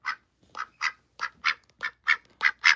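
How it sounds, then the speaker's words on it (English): A pet duck quacks in a steady series of about ten short, bright calls evenly spaced across a few seconds, close and clear with no talking over them. "is a very funny duck."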